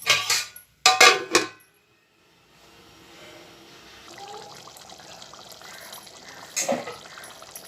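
Tamarind water poured into simmering bitter gourd gravy in an Indian home kitchen: a soft, low steady pour preceded by a few sharp clattering knocks, with another brief clatter near the end.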